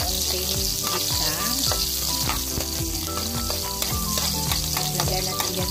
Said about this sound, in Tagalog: ang unahin ko na lang ay sibuyas. Idaan lang natin ng gisa